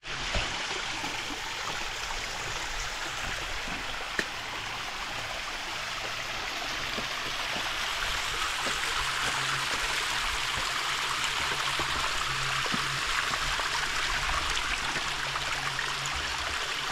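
A stream flows beside a water pipe near Maricao, Puerto Rico, a steady broadband rush of running water, constant and fairly close, with no talk.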